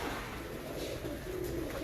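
Royal Teddy pigeons coo softly and continuously in a loft, a low, murmuring burble from several birds at once.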